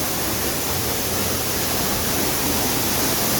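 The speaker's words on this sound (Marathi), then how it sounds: "मित्रांनो आता धबधबा आमच्या वरती आहे" Khandi waterfall roars as a dense, unbroken wash of rushing water, loud and close throughout with no other sounds standing out.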